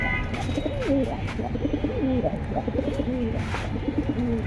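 Military breed pigeons cooing close by, a run of repeated throaty, warbling coos that overlap in quick succession over a low background murmur.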